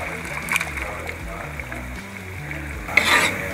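Boiled quail eggs go into a simmering gravy and are stirred, producing a steady sizzle with scraping spoon strokes and a louder splattering burst near the end.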